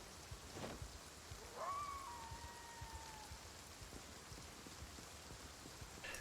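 Rain falling at night in a video game, a steady soft hiss of drops filling the scene, with a faint wavering tonal whistle drifting through the middle and no voices.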